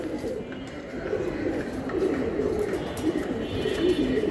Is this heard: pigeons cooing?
yes